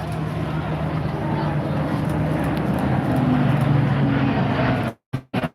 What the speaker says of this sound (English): from the left, the Royal Canadian Air Force C-130J. This is going to be loud.